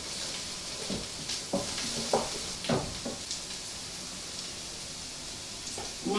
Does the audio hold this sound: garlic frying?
yes